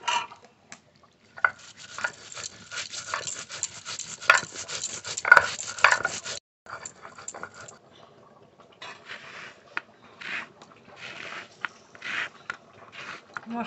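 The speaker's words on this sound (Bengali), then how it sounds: "যে মশলাটা ভেজে রেখেছিলাম বেটে নেব।" Fried spices ground into a paste with a little water for a mung dal with katla fish head: steady rubbing and scraping strokes in bursts with short pauses, close and moderate.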